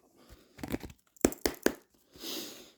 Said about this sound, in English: Let me just shuffle these and we'll get you an answer now.